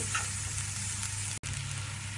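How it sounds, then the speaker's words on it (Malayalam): Finely chopped onions sauté in a cube of butter in a pan, giving a steady, close sizzle with a single brief dropout midway. "നമുക്ക് ഒരു ക്യൂബ് ബട്ടർ ആഡ് ചെയ്ത് കൊടുക്കാം. നന്നായി വഴറ്റി കൊടുക്കാം."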